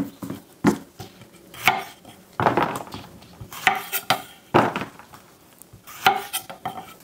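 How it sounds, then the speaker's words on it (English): A knife chops the tops off jalapenos on a board for smoked salsa, with a series of sharp, close thuds spaced irregularly, roughly one or two per second, and no speech. "All we're gonna do for these guys, chop the tops off."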